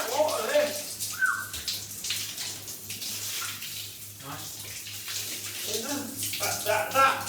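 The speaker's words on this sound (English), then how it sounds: "There's a lot of water coming out of there. Sounds like a pump." Water gushes steadily from a tap fed by a pump in a bathroom, a continuous splashing rush with a low steady pump hum underneath, while people talk briefly over it.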